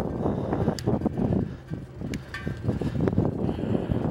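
Gusting wind buffets the microphone while riding a tall Dutch-style Mustang Oscar city bike outdoors, a low rumbling roar that swells and dips unevenly, with faint metallic ticks over it.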